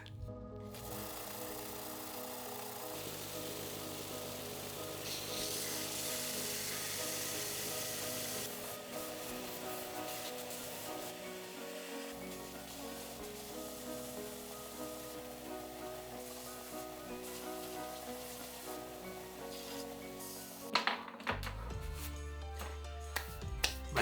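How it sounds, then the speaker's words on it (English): Scrap wood is sanded by hand for toy making, a continuous rough rasping rub that keeps going with small shifts in pitch and some tool knocks near the end. "Sanding's taking forever."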